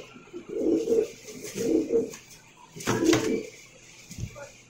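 Pigeons coo at a pigeon farm in close, soft bursts of throaty rolling calls, several in a row with short pauses, plus a brief knock near the end.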